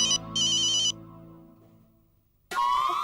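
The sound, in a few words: phone ringtone, Pinku's phone ringing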